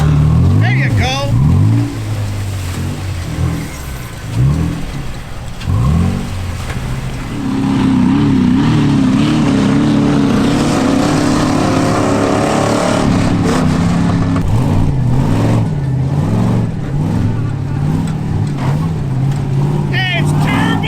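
A turbocharged truck engine revs hard while mudding off-road at Azusa Canyon OHV, a loud sustained roar that rises and holds throughout, with people shouting and talking over it.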